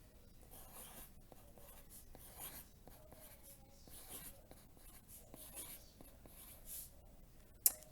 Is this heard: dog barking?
no